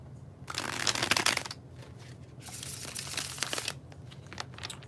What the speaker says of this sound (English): All right, here it is, the bridge shuffle.